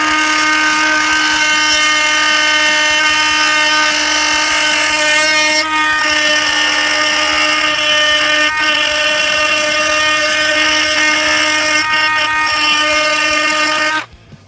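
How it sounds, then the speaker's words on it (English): A regular oscillating tool blade buzzes continuously and loudly up close as it cuts through nails, a steady high-pitched whine with brief dips in pitch, then stops abruptly near the end. "your regular oscillating tool blade was barely able to cut through 1 nail"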